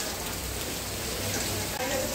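Heavy rain pours down all around on a wet day, a steady, dense broadband hiss with no breaks that stays even and close throughout.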